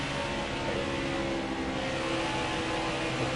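A NASCAR Heat 4 race car engine at Atlanta drones steadily, its tone easing slightly as the throttle lets off, with no voices.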